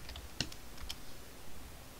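A few light, sparse keystrokes on a computer keyboard, quiet and close against a soft room hiss, with no talk over them.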